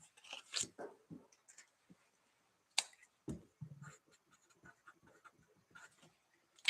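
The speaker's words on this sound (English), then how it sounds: "Let me write that down." A pen writes on paper in a quiet room, making a handful of short, soft scratchy strokes separated by brief pauses, with no one talking.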